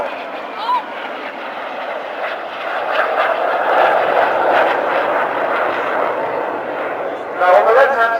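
Red Arrows jets at the Bournemouth Air Festival hold a loud, steady roar that swells midway and surges again near the end as the aircraft pass close, with a commentator talking over the engine noise.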